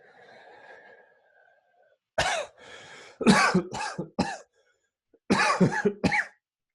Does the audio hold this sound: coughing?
yes